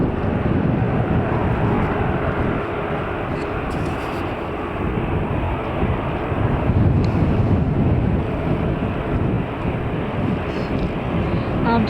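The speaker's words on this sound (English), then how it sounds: "So Brussels Airlines Airbus A319." A Brussels Airlines Airbus A319 arrives at Manchester Airport. A loud, broad, steady roar of jet engines and rushing air fills the whole stretch, with wind buffeting the microphone.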